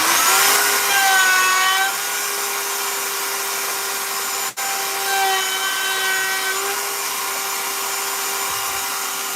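A power tool grinds knife steel to a set depth, producing a steady high whine with shifting ringing overtones that runs almost unbroken, briefly cutting out once midway.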